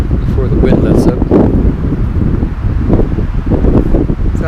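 Strong, steady wind buffets the microphone at an off-grid truck camper campsite during red flag conditions, a continuous loud roar with rustling gusts and no break across the whole stretch.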